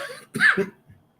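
A single close, harsh cough with a brief throat-clearing rasp, followed by quiet.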